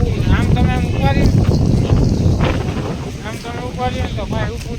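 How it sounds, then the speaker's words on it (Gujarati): Strong gusting wind sweeps across open ground hard enough to raise dust, roaring loudly into the microphone as someone talks over it. "એટલો બધો પવન છે ને કે ડમરી ઉડાડે ભાઈ ડમરી"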